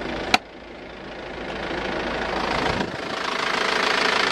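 Isuzu ELF NLR55 LX bus with a 2.8-liter, 100 PS diesel engine runs with a steady, close mechanical drone that builds slightly in loudness, broken by a brief sharp knock near the start and a small dip later, with no talk.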